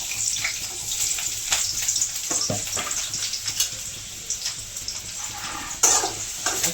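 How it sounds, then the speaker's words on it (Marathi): Onion is tipped into hot oil for a fenugreek-leaf dish, giving a close, crackling sizzle with bursts of spitting and some stirring noise, heard alone without talk. "तेल गरम झालेलं आहे त्यात आपण कांदा टाकूया"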